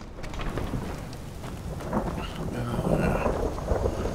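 Rain pours steadily in the Skyrim video game, with low rumbling thunder rolling beneath the hiss, growing slightly louder toward the end.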